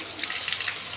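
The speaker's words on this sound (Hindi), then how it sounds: "अभी पानी चालू करके इसको थोड़ा सा अच्छा से क्लीन कर देना है।" Running tap water pours steadily into a blocked wash basin during cleaning, a continuous close hiss and splash with no voices.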